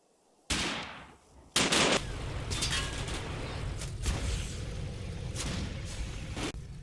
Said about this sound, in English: The unbuttoned commanders are too tempting a target for the machine gunners.